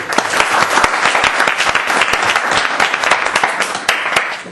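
Dense, sustained applause from an audience gathered for a satsang at a spiritual center in Zanesville, many hands clapping loudly and steadily, close and continuous throughout.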